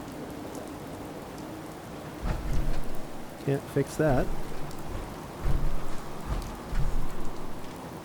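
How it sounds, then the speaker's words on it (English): Steady rain in the video game Fallout 4: Far Harbor patters throughout, with someone speaking briefly over it midway and a few louder gusts of rainfall near the end. "Oh my, it's raining again."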